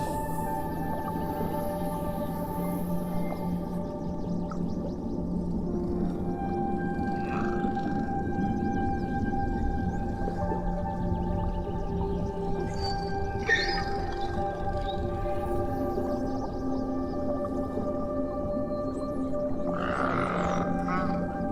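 Deep-diving whale calls under water, a long steady series of tonal moans and clicking pulses with occasional brighter bursts, continuous and fairly close, no voices.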